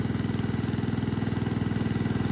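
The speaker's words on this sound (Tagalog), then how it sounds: "binili namin dyan sa makina. Para i-drain namin." A small engine powers a machine draining water from a harvested fish pond, running with a steady, even chugging pulse nearby and no talk over it.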